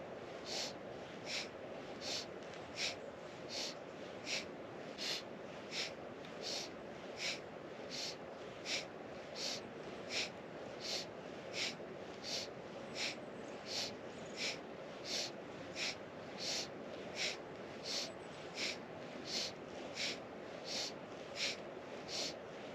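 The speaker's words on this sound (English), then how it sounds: "So notice my breath is really strong" Strong, rhythmic breathing during a kundalini spinal twist practice, with steady forceful breaths repeating roughly once a second, close and alone throughout.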